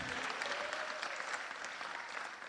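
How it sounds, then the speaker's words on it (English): A council meeting audience claps together, a brief, even burst of applause filling the room at moderate distance, with no voices rising above it. "Go ahead, applaud for her one time,"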